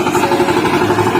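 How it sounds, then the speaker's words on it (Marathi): A tractor engine runs steadily in a stony rice field, its close, loud mechanical chugging and clatter continuing without a break through the short moment. "हे बघा थोडंसं फिरवलेलं आहे ट्रॅक्टर."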